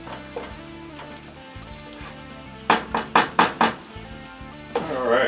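Flour browning in a pan for chipped beef gravy gives a soft steady sizzle, broken by a quick run of four or five sharp scraping strokes of a utensil against the pan near the end.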